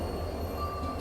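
A train rake with coaches pulls in on the railway, producing a low, steady rolling rumble that stays moderately faint and even throughout, with no talk.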